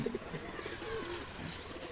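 Pigeons coo softly in a loft or enclosure, low burbling calls repeating under a faint ambient hiss, with no talking.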